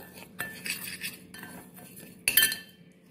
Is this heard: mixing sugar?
yes